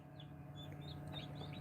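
Chickens on a backyard poultry farm where Cochins are hatching, with a rooster vocalizing in the background: faint, repeated high chirps and clucks over a low steady hum, distant and soft.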